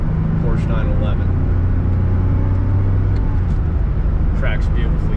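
A 1988 Porsche 911 with the G50 gearbox drives along a road, giving a steady loud low engine and road rumble throughout, with someone talking over it.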